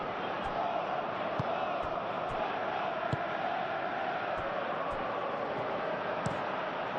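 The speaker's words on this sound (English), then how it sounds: "the crowd are reacting to that now" A football stadium crowd in a video game simulation of a Premier League match roars as a steady, dense wash of noise, with faint sharp knocks scattered through it.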